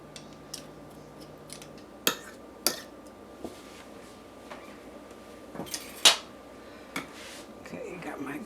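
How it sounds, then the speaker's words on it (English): A garlic mincer crushing a clove for a vintage 1971 Betty Crocker dilly cucumber salad, heard as a series of sharp metallic clicks and snaps at irregular intervals, close and fairly quiet over a faint hum. "I'm going to use the garlic mincer"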